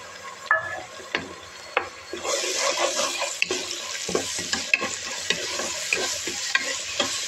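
Garam masala and ginger garlic paste frying in a pan, a bright crackling sizzle with frequent spoon scrapes and taps as it is stirred, loud and close with no speech.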